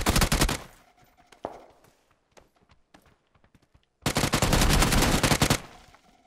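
A UMP submachine gun fires in a video game as two loud, rapid automatic bursts, a short one at the start and a longer one near the end, with quieter clicks and footsteps between.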